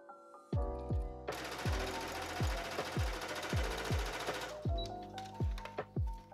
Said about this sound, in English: first by working with the top front pieces and sewing those all together